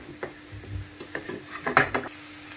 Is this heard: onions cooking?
yes